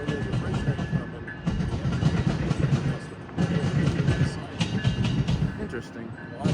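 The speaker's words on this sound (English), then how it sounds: "where there's a freight train coming" A freight train rolls past at Santa Fe Junction, a steady loud rumble with rhythmic clatter of wheels over rail joints, close by and continuous, with people talking over it.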